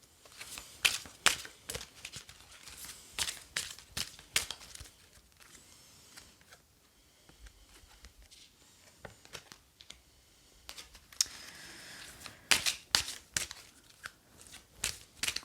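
Angel Oracle cards shuffled by hand in a quiet room, soft irregular flicks and riffles coming in bursts with pauses between, close and fairly faint.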